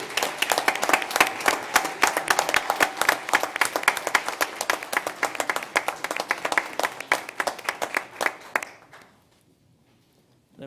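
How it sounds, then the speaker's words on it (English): Loud, close applause from an audience at a Montgomery County Commission meeting, many sharp claps in a brisk, dense pattern that tapers and stops, leaving near silence at the end. "applause."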